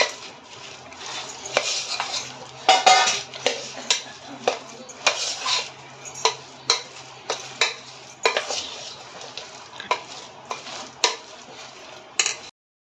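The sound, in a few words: mixing dal vada mixture in a pot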